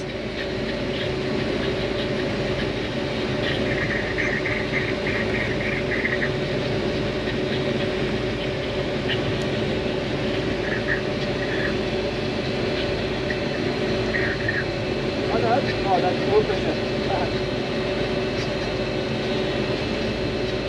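A Toyota 1UZ V8 idles in a sterndrive boat, giving a steady, continuous low drone with a constant hum running through the whole stretch and faint clicks near the end.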